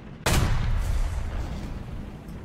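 A tank cannon fires in War Thunder: one sudden, loud, deep boom whose heavy rumble lingers and slowly fades over a couple of seconds, with no talking over it.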